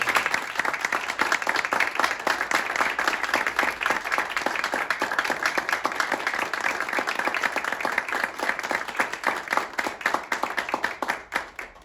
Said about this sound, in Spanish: Les regalamos un aplauso, por supuesto